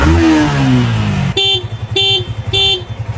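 A motorcycle that would not start, just repaired, sputters to life with a rapid putter, then rises in three sharp, loud revs over a choppy idle, up close. Voices are heard at the start.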